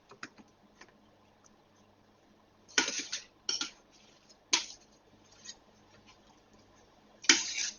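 Fried onion is stirred into a cooking dish, and a utensil scrapes and clinks against the dish in a few sharp bursts. Between the bursts there are quiet pauses with small taps.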